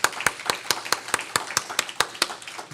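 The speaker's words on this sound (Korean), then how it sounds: "박수 한번 하십시다." Clapping at a church book event, sharp hand claps in a quick even rhythm of about four per second, close and distinct rather than a dense crowd wash.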